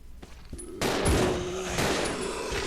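A shotgun fires at zombies in the survival horror game Resident Evil Zero, with a couple of sharp reports followed by a loud blast and a lingering rumbling roar, close and heavy.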